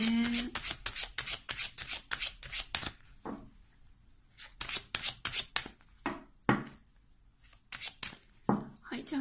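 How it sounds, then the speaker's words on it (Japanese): Tarot cards are drawn and laid out on a table in quick, crisp slaps and shuffles, a flurry of dense card sounds followed by sparser placements while someone talks alongside. "今からね、もう7枚、ちょっとカードを出していくんですけど"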